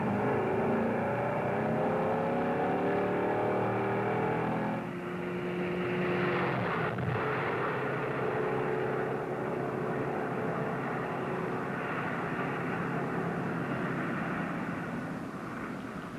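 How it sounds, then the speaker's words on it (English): A 1960 Chrysler 300F accelerates from a standing start over sand, its engine note climbing through rising pitch sweeps before settling into a loud, sustained roar at speed. "Then he tried the standing mile over the same route, precisely 1 mile from a standing start in the sand."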